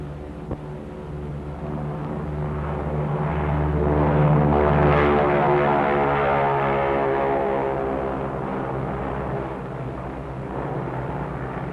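A propeller airplane carrying an atomic bomb for the Bikini Lagoon test drones steadily overhead, its engine hum swelling louder toward the middle and then easing off, with no voices.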